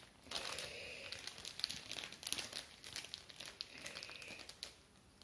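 Plastic packaging around a cross-stitch canvas crinkles and rustles in soft bursts while being opened, close and faint, with brief pauses between handfuls.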